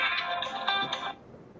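A phone ringtone plays loud and close as a bright, chiming electronic melody for about a second, then cuts off, leaving quiet room tone.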